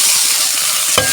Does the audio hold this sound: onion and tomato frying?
yes